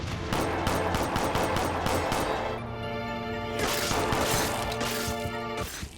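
Rapid automatic gunfire with sharp bursts and crashing impacts from the 2007 Xbox shooter Shadowrun, dense and loud throughout, with a layer of mechanical game effects and a low droning tone underneath.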